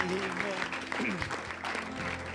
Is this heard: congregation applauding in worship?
yes